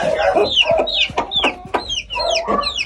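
A hen clucks repeatedly in short, rising bursts after laying an egg, close by and fairly loud, with no one talking.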